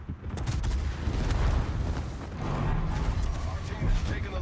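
Heavy naval guns from ship turrets in a battleship combat video game boom repeatedly in dense, overlapping bursts, filling the mix with a continuous rumbling barrage.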